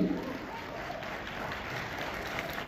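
An audience at a large spiritual gathering applauds in a steady, moderately loud wash of clapping that continues evenly without talk.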